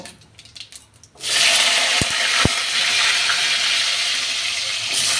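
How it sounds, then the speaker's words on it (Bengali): Cut potatoes dropped into hot oil already fried with leaves and dried chillies set off a sudden loud, steady sizzle that fills the rest of the moment, with a couple of soft clunks early on. "আমি আগে থেকে কেটে রাখা আলু এই তেলের মধ্যে দিয়ে দেব"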